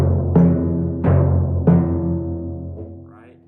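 Timpani out of tune, a clashing octave between drums: three loud strikes about a second apart, each ringing out with a dissonant, beating sustain that slowly decays, followed by a faint trailing sound.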